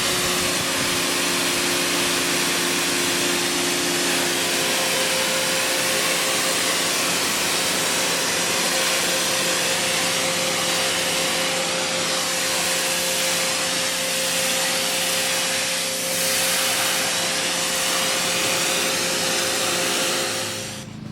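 A Bauer 2000 PSI electric pressure washer sprays at dirt spots, its motor humming with a steady tonal whine under a dense, loud hiss of water jet that runs continuously for about twenty seconds without talk.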